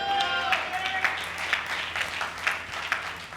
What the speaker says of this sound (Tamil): கைத்தட்டுங்க பார்க்கலாம்.